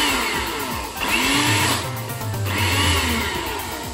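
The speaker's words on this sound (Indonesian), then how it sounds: "Saya bubuh dalam blender, saya blend." An electric blender whirs steadily as it blends garlic, tahini and lemon for baba ghanoush, its motor drone rising and falling in pitch across the run with no talk over it.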